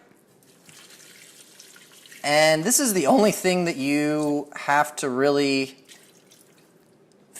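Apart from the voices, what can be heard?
water poured into an Instant Pot with rice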